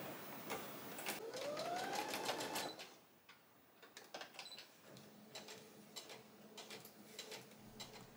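A sewing machine stitches the shoulder seams of a party dress made from a vintage reproduction pattern, running in a steady loud burst with a rising whir before stopping, then softer intermittent clicks and handling sounds follow.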